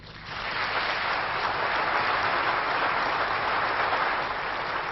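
A crowd at François Bayrou's last political rally at la Mutualité breaks into thick, continuous applause that swells within a moment and holds steady and dense throughout, with no speech on top.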